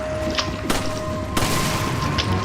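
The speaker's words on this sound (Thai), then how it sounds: "ระเบิด" Explosions in the video game Resident Evil 5 go off as loud, sharp blasts, two distinct bursts over a dense, noisy game soundscape.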